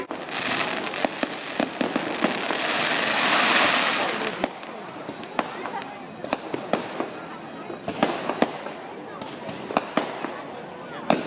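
Fireworks at a bonfire night display in Holmfirth, with a dense crackling wash of bursts and sharp distant bangs popping irregularly throughout, heard from a crowd with no clear speech.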